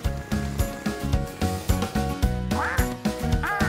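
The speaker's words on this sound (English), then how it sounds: "That's Dylan the duck." A cartoon duck quacks repeatedly in loud, rhythmic bursts over a bouncy musical backing, with no one talking.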